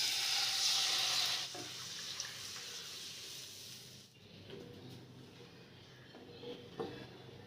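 A loud burst of hissing sizzle as tomato-tamarind liquid hits a hot pan of fried dried chilies for rasam, settling after a second into a quieter, steady bubbling simmer.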